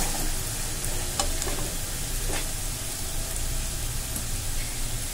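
Kashmiri red chili powder gets stirred in a frying pan over a medium flame, giving a steady, close sizzle with faint scraping strokes and no voices.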